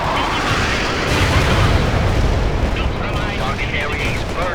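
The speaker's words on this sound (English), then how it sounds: "Target area is burning with We've napalm." Napalm strike burning across a target area in the video game World in Conflict, a loud, sustained roar of fire and rumbling blasts that swells slightly midway, with battle chatter underneath.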